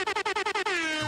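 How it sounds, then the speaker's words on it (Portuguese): A loud air horn blares in a rapid series of about seven short pulsed honks, then holds one sustained tone that sweeps upward at the end. "Solta a buzina pra gente aí, Naka!"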